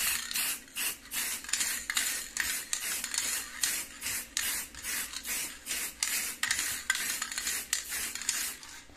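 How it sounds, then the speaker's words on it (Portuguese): High-temperature spray paint hisses from an aerosol can onto a small oven appliance in a steady series of short, close, rhythmic bursts, with no voices. "o leque é muito ruim desse spray"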